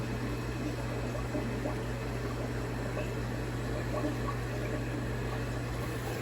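An integrated rear filter hums and gurgles faintly in a 4-foot, 80-gallon aquarium holding cichlids, a steady low mechanical drone with soft water noise and no talking.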